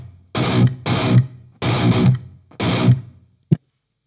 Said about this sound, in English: So I'm only using the gate to reduce the noise.